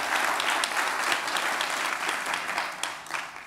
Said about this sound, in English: Yes, clap, please clap